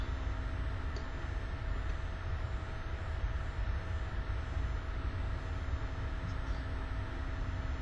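An airliner taxiing toward runway 34 left at Salt Lake City in X-Plane 11, giving a steady, even engine drone with a faint whine that holds unchanged throughout, with no voices.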